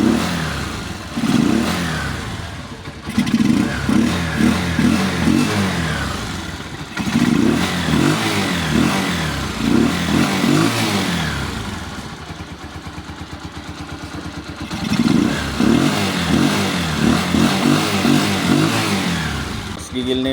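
A motorcycle engine idles and revs steadily after a push rod replacement, with the tappet ticking gone and the running now quieter; pulses of throttle come in bursts between steadier running, with people talking over it at times.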